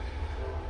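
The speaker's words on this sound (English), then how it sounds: "There's that darn train going by." A passing train heard as a steady low rumble with a faint drone above it, brief and continuous with no talk.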